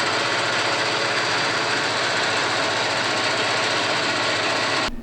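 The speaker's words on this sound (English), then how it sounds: "we have already taken out the 327 that was in the Datsun because, if you might remember, it was making some pretty awful sounds." A Chevrolet 327 V8 out of a Datsun 240Z runs with a harsh, steady, loud clatter and rough knocking throughout, close by with no talk.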